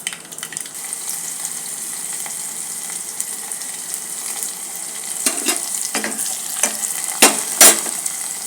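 Tempering for spinach dal (palak pappu) sizzling and frying in a pan, a steady hiss with sharper crackles and pops toward the end, close and fairly loud, no talking.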